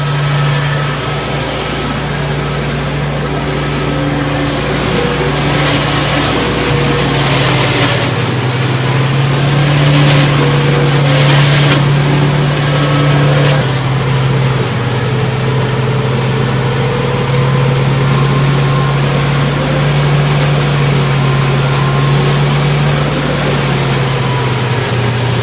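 A 25 horsepower compact tractor engine labors steadily under heavy load, a loud, close, continuous drone with the pitch dipping slightly as it strains.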